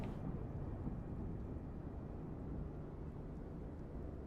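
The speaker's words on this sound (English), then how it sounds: "Listen to that thunder" Sustained rolling thunder in a flight simulator game, a continuous low rumble with a rain-like hiss at an even moderate level throughout, no voices.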